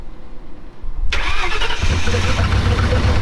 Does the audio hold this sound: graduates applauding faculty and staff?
no